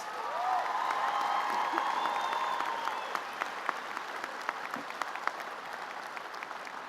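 An audience at a college graduation ceremony claps loudly and steadily, a dense wash of applause that thins out toward the end into a few scattered claps.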